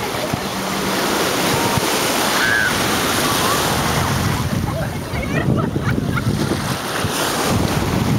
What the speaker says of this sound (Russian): Волны обалденные.